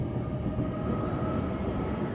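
Metro train standing at a station platform during rush hour, a continuous dense rumble and hum with a faint steady tone, no voices.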